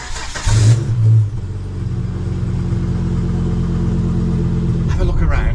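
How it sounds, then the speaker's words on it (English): A 1997 Volvo S70 engine cold-starts with a short cranking burst, then catches and settles into a steady, loud low rumble close by, with a brief clatter near the end. "I'll put a little clip on now of how it sounds when it starts up"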